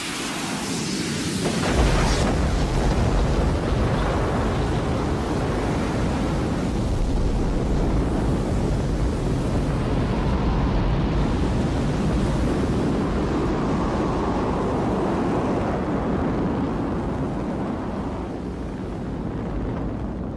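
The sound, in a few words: Soyuz rocket launch roar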